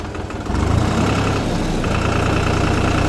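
A Deutz-Fahr Agrolux 50 Turbo tractor engine runs steadily with the PTO engaged at 540 while driving a baler, a loud, even diesel drone that rises slightly in level early on and then holds constant.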